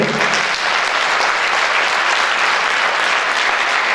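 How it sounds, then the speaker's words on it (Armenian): A crowd applauds steadily, a dense wash of clapping that holds at the same level throughout. "Ես առաջարկում եմ եւս մեկ անգամ նաեւ իրենց շատ ջերմ ծափահարել"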